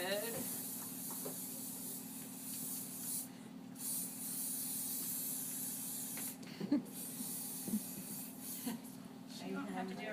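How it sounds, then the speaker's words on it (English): Short hissing bursts of aerosol hairspray sprayed onto hair, a few in quick succession, over a steady background hum with some speech nearby. "And then I always spray it really good."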